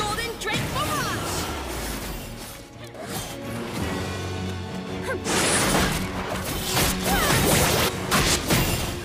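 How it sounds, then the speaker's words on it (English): Heavy crashes, whooshes and impacts of the Golden Drake Barrage skill attack in Seven Knights 2, with loud bursts of combat effects and a voice in the background. "Golden Drake Barrage!"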